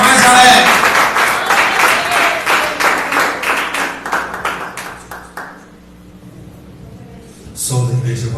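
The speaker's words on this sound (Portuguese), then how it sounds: "Mais alegre as palmas, mais alegre." Energetic rhythmic clapping from a church congregation, brisk and steady for about five seconds before fading, then a brief burst of voices near the end.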